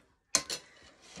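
A knife clinks against a plate twice in quick succession while pulled pork is being sliced and shredded, close and crisp, then a faint scrape fades out.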